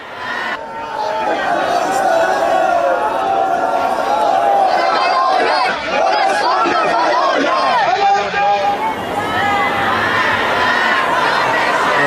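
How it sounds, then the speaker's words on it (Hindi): A huge crowd at Ali Khamenei's funeral in Tehran keeps up a dense, continuous roar of voices, shouts and calls, loud and close throughout, with individual voices rising out of the mass. "तेहरान में उनके पूर्व सुप्रीम लीडर अली खामनेई के जनाजे में ये जो भारी भीड़ उमड़ी है"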